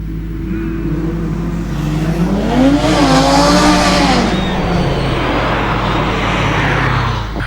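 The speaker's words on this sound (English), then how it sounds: "Jordan Semkes now in the Impreza WRX 99 model, make its way around the hairpin." A 1999 Subaru Impreza WRX rally car rounds a hillclimb hairpin, its engine loud and close, revs climbing and falling through the bend before pulling away with a strained roar.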